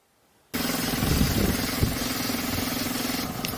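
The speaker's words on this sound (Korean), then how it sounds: "시동이 걸리고 정지되어 있는 아이들 상태에서 엔진 회전수는 800rpm을 나타내고 있고" A Kia Ray test car engine, fitted with a fuel pressure gauge, settles into a steady idle at 800 rpm after a short silence. The low, even hum is close and runs without talk.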